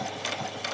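Sewing machine stitching the neckline of a doll's dress, a steady close mechanical whir running through the short moment with slight pulsing.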